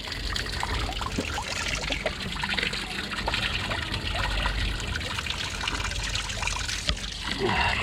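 Water trickling and pouring steadily at close range, a continuous splashing flow during a walking tour of Baku's Old City in Azerbaijan.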